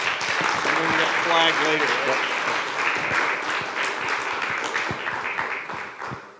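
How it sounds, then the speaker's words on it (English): Conference audience in Alaska gives a round of applause, dense steady clapping that fades out near the end, with a voice briefly speaking over it at the start. "Round of applause for these guys."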